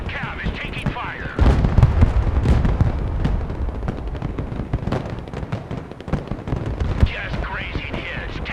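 Gunfire striking an armored cavalry vehicle in the video game Broken Arrow, dense rapid cracks and booms forming a loud, continuous barrage, with voices heard over the start and end.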